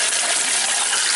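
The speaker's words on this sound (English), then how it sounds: "I'm adding a lot more water to it now." Water pours steadily into a water dragon enclosure, a loud continuous gushing splash with no break, close by.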